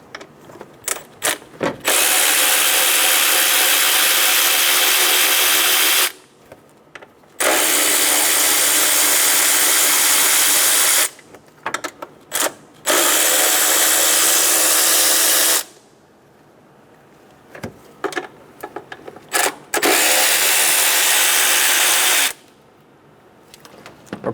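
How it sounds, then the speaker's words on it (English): A 10mm socket wrench backs out throttle body bolts and nuts on a 2005-2015 Toyota Tacoma 2.7L four-cylinder, with several bursts of rapid ratcheting clicks, close and loud, separated by short pauses. "Using a 10mm socket, we're going to remove the 2 bolts and 2 nuts for the throttle body."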